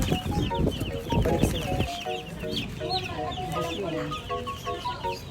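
Chickens and chicks clucking and peeping close by, a busy layered chorus that continues throughout, with people talking over it in the first couple of seconds.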